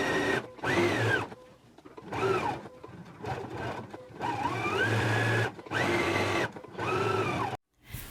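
A sewing machine stitches the seams of a McCall's 7831 jumper in several bursts of steady whirring, each run stopping and restarting, close and fairly loud with short quiet gaps between.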